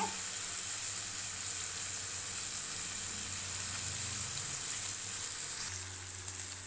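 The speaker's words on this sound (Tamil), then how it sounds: "அப்படியே அதை ஃப்ரை பண்ணிக்கலாம் கொஞ்சம் இந்த மாதிரி திருப்பி திருப்பி விட்டுக்கலாங்க" Paneer pieces fry in oil in a pan for a spicy paneer gravy, a continuous, even sizzle heard up close with a slight shift near the end as the pieces are turned; nobody speaks.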